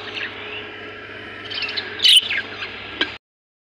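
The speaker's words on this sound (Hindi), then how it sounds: "ये यहाँ पर तोते चिपके हुए हैं जाली पे" Parrots in an aviary colony give short chirps and squawks at close range, with a sharper burst of calls near the middle, over a steady low hum.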